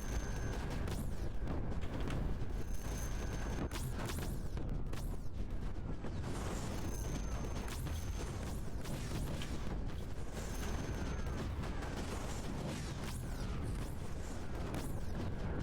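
Carpet bombers in the Creeper World 4 strategy game unleash a steady rolling barrage of explosions, with dense, continuous booms and crackling blasts filling the field alongside faint tonal game chimes.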